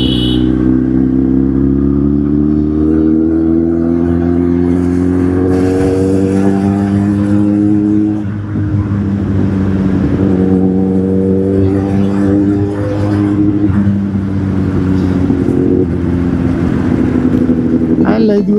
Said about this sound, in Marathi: लय दिवस झालं राव गाडीचा आवाज ऐकला नाही ना.